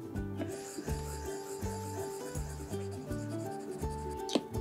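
A stylus rubs and scratches rhythmically across an iPad screen while sketching with a chalk brush in the ToonSquid animation app, soft repeated strokes under quiet background music.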